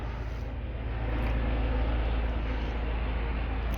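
Helicopter hovering and circling over Wolverton, heard from a balcony as a steady, loud low rotor and engine drone that swells slightly and holds for the whole stretch.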